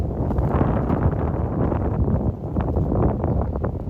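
Steady, blustery wind roars across open countryside on a New Year's Eve walk, a dense continuous rumble buffeting close to the microphone with small gusty swells and no voices.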